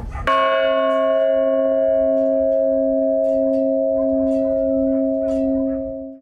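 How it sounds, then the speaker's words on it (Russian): A single large church bell of nearly 300 kilograms is struck once and rings out with a long, sustained humming tone that slowly fades, heard alone and close. "Почти 300-килограммовый благовест уже на своем законном месте и радует прихожан звоном"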